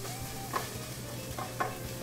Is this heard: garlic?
yes